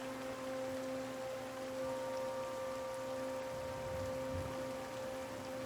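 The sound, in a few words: rain in video game Pillars of Eternity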